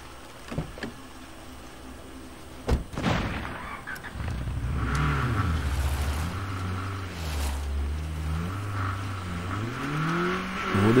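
A car engine in the zombie survival video game State of Decay 2 revs and rises in pitch after a few sharp knocks, the motor droning and climbing repeatedly through the latter part, moderately loud with no talking.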